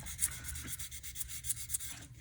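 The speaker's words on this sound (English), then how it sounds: "I think I can do a little fine sanding now," Steady, fine rubbing of sandpaper across a 3D-pen repair on a vintage Waterman's pen cap, a continuous soft rasp with slight rhythmic swells, close up and with no voices.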